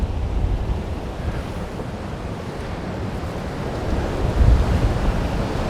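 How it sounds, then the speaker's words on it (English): Strong wind and pounding surf at Haulover Inlet, a continuous roar of breaking waves with heavy gusts buffeting the microphone and a louder surge near the end. "this is a windy day"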